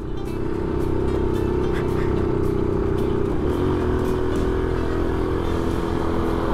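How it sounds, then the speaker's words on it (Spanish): A motorcycle climbs a steep street in Ciudad Bolívar, Bogotá, its engine droning steadily and loud under load, a sustained low hum that dips slightly in pitch partway through as it strains uphill. "Y aquí la moto ya empieza a pedir un poquito"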